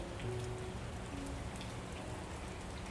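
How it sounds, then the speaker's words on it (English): Steady rain pattering against a window, a constant close wash of drops with no break and no voices. "the sound of the rain against the window"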